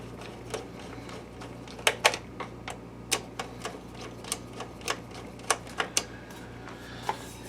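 Small screws are snugged into the lamp door of an Optoma X600 DLP projector, giving a string of sharp, close ticks and clicks at an uneven pace over quiet background.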